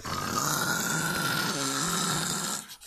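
Snoring, one long loud droning rasp held for a couple of seconds with a wavering pitch, close up, ending abruptly.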